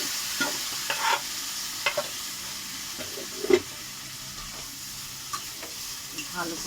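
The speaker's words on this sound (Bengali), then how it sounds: "ভালো করে কষাবো" Marinated chicken leg pieces being sautéed in oil in a pan, with a steady soft sizzle broken by sharp scraping and stirring clicks of a utensil at irregular intervals, close up and with no talking.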